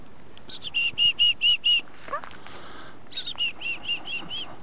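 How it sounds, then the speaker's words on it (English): Chickadees at a feeder in a Calgary park give clear rhythmic runs of repeated chirps, two bursts of about five notes each, with soft wing flutters in between, close by over a quiet outdoor background. "The attack of the killer chickadees."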